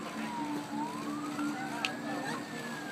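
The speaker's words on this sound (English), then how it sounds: "You can hear the sirens." Sirens wail in the distance, their pitch rising and falling slowly beneath a steady background of engine and road noise.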